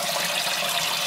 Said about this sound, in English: So we've been flushing a bunch of water through the cowl